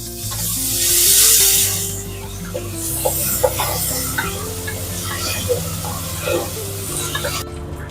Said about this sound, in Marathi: आलं, लसूण, हिरवी मिरची, कोथिंबीरची पेस्ट आहे. 1 चमचा टाकते आणि चांगली तळून देते.